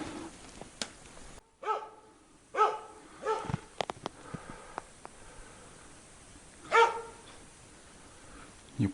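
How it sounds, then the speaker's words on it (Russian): A dog barks outdoors in a forest near a cabin by a river, with a few loud barks spread over several seconds, some doubled, against quiet background hiss. "Кого он лает?"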